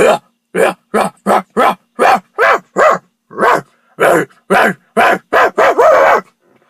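A human voice imitates a dog barking on heavy exhaled sighs, around fifteen short sharp bark-like bursts in a quick, fairly even rhythm, close and loud with brief silences between them.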